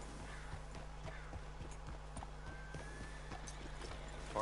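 Horse hooves clop in a steady rhythm at moderate distance in the video game Red Dead Redemption 2, accompanied by a low constant hum and a brief whinny-like tone.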